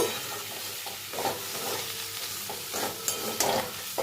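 Snake gourd and grated coconut stirred in a pan, the spatula scraping and tapping in an uneven rhythm over a low sizzle, close and moderately loud without talk.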